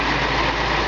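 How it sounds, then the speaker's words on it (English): A restored 1965 Ford Mustang convertible idles nearby, a steady low rumble of the engine running smoothly and evenly, brief and uninterrupted, with no talk. "You can just hear the car. Purrs like a kitten."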